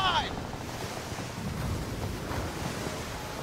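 Wind and sea wash while sailing a ship in the pirate video game Skull and Bones, a steady broad rushing of waves and breeze with a brief tonal chime at the start.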